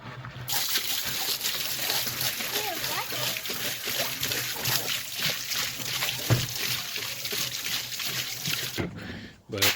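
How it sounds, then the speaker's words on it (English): Degreaser is poured into a Ford Explorer GT40 intake manifold, making a steady splashing, sloshing gush that runs for about nine seconds before cutting off abruptly. "So I'm just going to, real simple, pour a bunch of degreaser in."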